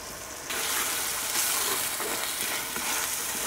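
Tomato pieces and curry leaves hitting hot oil for a chicken curry, bursting into a sudden loud, dense sizzle that holds steady and close after a brief quieter start.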